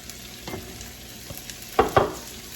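Smoked ham cubes frying in a pan, a quiet steady sizzle with a few sharp clatters as the cubes are tossed around, louder near the end.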